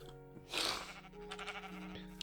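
A Minecraft sheep gives a single bleat over a steady electronic game background, moderately loud and close.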